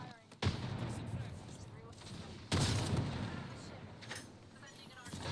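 Gunfire in the video game Apex Legends: two loud, sharp bursts of shots, each followed by a long ringing decay, with faint game noise in between.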